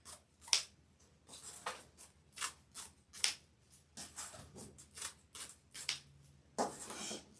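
Scissors snip and rustle through red and white deco mesh for a Valentine's front door wreath, a series of crisp cuts and crinkles at an uneven pace, close and fairly quiet.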